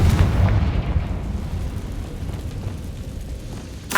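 Confringo blasting spell exploding in Hogwarts Legacy, a deep rumbling boom that fills the low end and slowly decays, with a brief sharp burst near the end.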